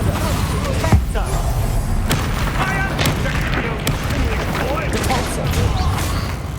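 Bombarda spell explosions in the video game Hogwarts Legacy amid a hectic magical duel, several heavy booms and sharp cracks over a continuous roar of combat, loud and near, with shouted voices mixed in.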